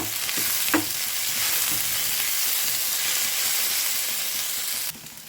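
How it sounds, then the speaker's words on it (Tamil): Chopped vegetables sautéing with salt in a pan for a wheat-flour adai batter, a continuous close sizzle with light stirring scrapes, then a sudden drop in level near the end. "அதனால் இது நல்லா வதக்கிக்கலாம்"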